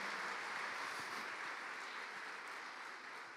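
A church congregation applauding the Lord, a dense and even wash of clapping that holds steady and fades slightly toward the end.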